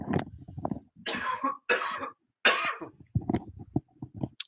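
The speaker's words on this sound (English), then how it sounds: "hang on, I'm going to cough again" A fit of harsh coughing up close, several bursts in quick succession with a few raspy throat-clearing sounds between them.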